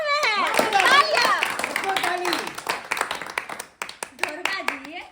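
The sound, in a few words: applause, clapping for the guest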